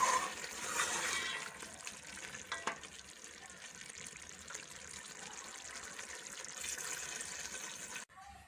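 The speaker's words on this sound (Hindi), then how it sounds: "अब गोश्त को गलाने के लिए इसमें पानी डाल लेंगे।" Water pours steadily into a cooking pot of sizzling meat gravy for okra and mutton curry, a continuous hissing splash that is loudest at first and then settles into a softer bubbling sizzle.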